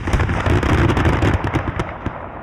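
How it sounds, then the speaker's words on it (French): Cannon and musket fire from a fort in a staged battle effect, a dense, loud barrage of overlapping booms and cracks with no pause. "Les canons du fort résonnent, les 3000 fusils français crachent le feu."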